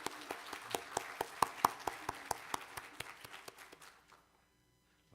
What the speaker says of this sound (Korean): 한번 환영의 기쁨의 박수 한번